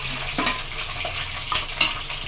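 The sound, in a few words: chicken frying in hot oil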